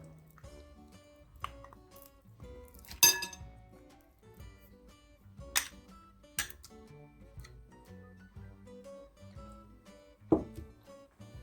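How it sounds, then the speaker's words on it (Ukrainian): A spoon clinks and scrapes against a bowl in irregular taps while stirring kefir cake batter with jam, quiet and close, with no talking. "І знову все добре перемішую."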